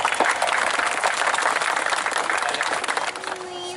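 An audience at a Holi comedy poetry event gives steady, dense applause that stays at an even level for several seconds before easing slightly at the end.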